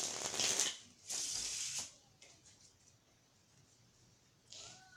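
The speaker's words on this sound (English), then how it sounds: "since no one's here, I'll shuffle it myself" A deck of playing cards is shuffled by hand in two quick riffling bursts, a crisp papery flutter up close, followed by quieter handling rustles in an otherwise still room.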